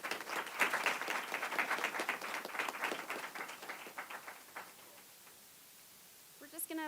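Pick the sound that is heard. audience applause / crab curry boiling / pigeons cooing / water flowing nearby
audience applause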